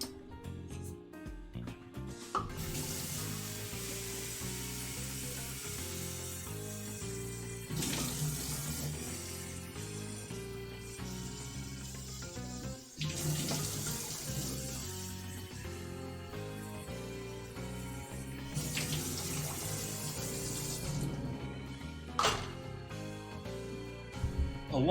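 Water runs steadily from a kitchen tap into a measuring cup for three cups of water, a continuous splashing stream lasting the whole stretch with no talking.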